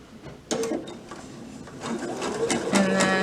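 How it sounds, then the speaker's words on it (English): A sewing machine stitches back and forth across fabric for a refashioned garment, starting abruptly with a whirring motor in short bursts that pause and resume as direction reverses, close and moderately loud with no talking. "And then just a few rows of back and forth stitching."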